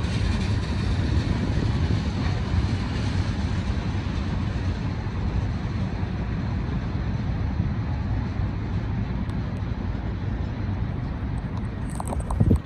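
A short freight train rolls past a railroad crossing, a continuous loud rumble and rattle of cars that holds steady throughout.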